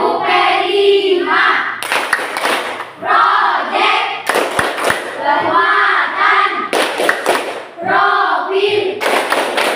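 A school class performs a tepuk clapping game, rhythmic group claps in short patterned bursts with thuds alternating with children's and a teacher's chanting voices, loud and close throughout.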